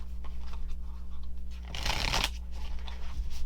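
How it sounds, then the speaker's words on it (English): Tarot cards being shuffled close up: a quiet riffling that swells into a dense flurry of papery flicks, then settles, over a steady low hum. "You never know when they're going to want to stop with the shuffling"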